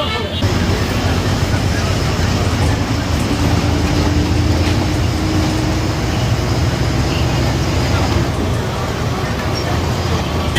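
A TNSTC BS-6 Viking mofussil bus pulls out of Koyambedu, its steady engine drone and rumble continuous and loud from inside the cabin, with road and traffic noise blended in and some faint background voices.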